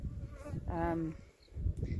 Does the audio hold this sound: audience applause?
no